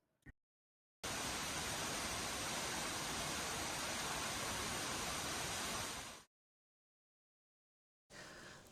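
Toccoa Falls, a waterfall with a 186-foot vertical drop, gives a steady, dense roar of falling water that cuts in and out abruptly.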